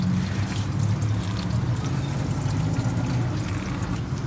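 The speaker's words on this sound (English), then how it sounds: "slowly pull the hose because all that coolant's going to rush out" Coolant pours from a Jeep Wrangler JK radiator hose into a catch container, a steady liquid gush and splash that continues evenly and alone.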